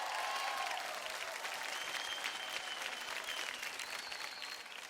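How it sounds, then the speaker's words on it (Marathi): Studio audience on a Marathi dance competition show breaks into loud, sustained applause, dense clapping holding strong before easing slightly at the end. "जोरदार टाळ्या होऊन जाऊ द्या आपल्या प्रतीकसाठी"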